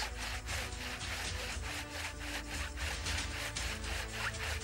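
A hand saw cuts wood in steady back-and-forth strokes, about two per second. The rasping is loud and close throughout, with no talking.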